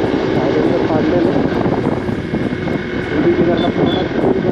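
A loud motorcycle with its silencer removed roars through road traffic, a harsh, steady engine drone blended with rushing wind throughout.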